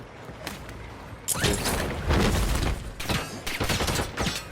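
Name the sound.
gunfire aimed at the player in Warzone, a video game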